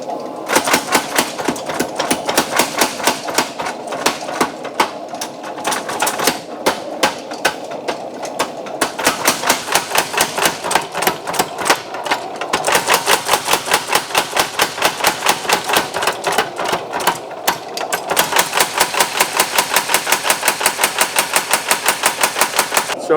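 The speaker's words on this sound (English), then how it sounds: "I'm going to move in here to this little hammer. Move out of your way here. And I'm going to start to draw the tang on it." A small power hammer rapidly pounds a forged knife blade while drawing out the tang, giving a loud, steady machine-gun-like rattle of blows that runs continuously in bursts with brief pauses.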